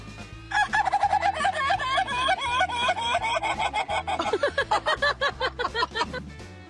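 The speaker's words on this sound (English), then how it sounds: "Just listen to how this rooster screams" A rooster screams in a long, loud, stuttering crow made of rapid repeated cackling bursts, close to the listener, over a low rhythmic background.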